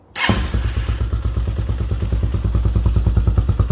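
An RPS Hawk 250 enduro motorcycle engine cranks and catches almost instantly, then settles into a loud, steady, rapidly pulsing idle close by.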